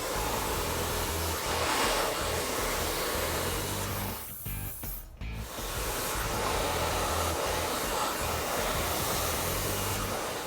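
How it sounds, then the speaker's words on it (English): A hair dryer roars steadily and loudly up close while hair is blow-dried with a large round brush, its airflow briefly dipping and sputtering about halfway through before returning to a constant full blast. "I'm gonna go through with a large round brush and I'm just gonna blow dry that in"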